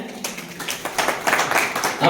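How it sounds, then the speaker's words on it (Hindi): Audience at a Hindi literary society executive meeting held at a school in Kota breaks into light scattered clapping that swells slightly, with a voice speaking over it. "तालियां हो जाए।"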